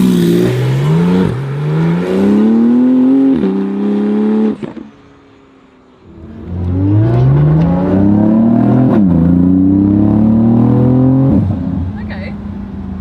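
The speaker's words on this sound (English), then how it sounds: "We've just opened the exhaust here. First time I'm driving a GT2 RS, peeps." A Porsche GT2 RS with its exhaust opened revs hard in repeated rising sweeps, loud and close, dropping to a brief lull midway before climbing again.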